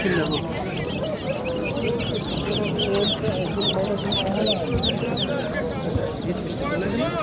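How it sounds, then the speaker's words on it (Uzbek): Roosters and hens cluck and call repeatedly at a busy Namangan poultry bazaar, many birds close by over a steady crowd murmur with people talking throughout. "Yangi chaqirgan xo'rozlar."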